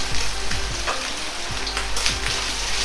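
Ground meat fries in its own rendered fat plus cooking oil in a pan, a steady close sizzle and crackle with occasional stirring scrapes, no voices.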